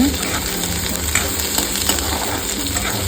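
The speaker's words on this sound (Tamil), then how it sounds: "இப்போது நம்ம வெட்டி வச்சுருக்க வெங்காயத்தை ஆட் பண்ணிக்கலாம். நல்லா ப்ரௌன் ஆகிற வரைக்கும் வணக்குங்க." Chopped onions sautéing in a pan for creamy onion pasta, a steady broadband sizzle with faint stirring scrapes throughout, close and fairly loud, with no talking.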